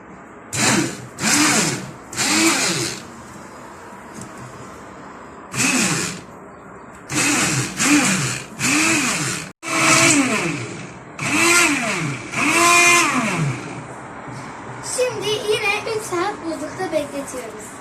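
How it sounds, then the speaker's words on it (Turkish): A kitchen blender purees a frozen özlimon mixture in repeated short bursts, its motor loud and close, rising and falling in pitch with each pulse, with brief pauses between runs. "blenderle bunu çırpıp püre haline getiriyoruz"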